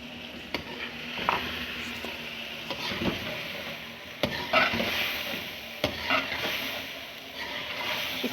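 Chicken with tomatoes, green chillies and a spice bundle sizzles and fries in a pot for biryani, with steady sizzling and repeated clanks of a spoon stirring against the pot, close up.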